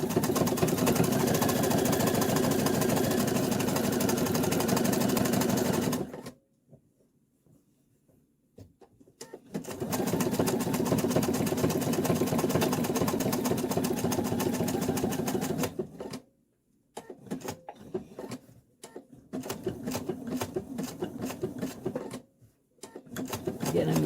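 A sewing machine runs steadily and close up while satin stitching an appliqué. It whirs in long runs that stop several times with short pauses and restarts.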